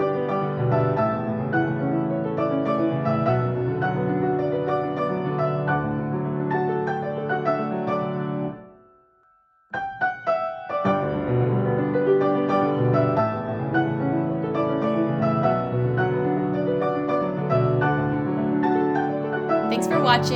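Piano playing a flowing left-hand accompaniment pattern with a right-hand melody on top, steady and close, broken by a brief pause before resuming, with no talking.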